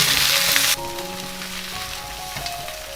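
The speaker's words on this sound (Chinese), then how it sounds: "接着加入羊肉炒干水分。" Lamb stir-frying in a wok with ginger and garlic stems, a loud hiss that drops suddenly after the meat goes in, then settles into a steady sizzle with faint clinks of stirring, close up and without speech.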